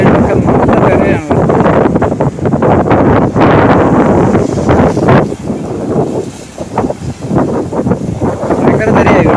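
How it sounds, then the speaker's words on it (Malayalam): Big waves break over shoreline rocks on Chembarikka beach in Kasaragod, Kerala, at high tide, loud and close with churning surf and strong wind roar on the microphone. "ആ കല്ലൊക്കെ മൂടി തിരയടിക്കുകയാണ്."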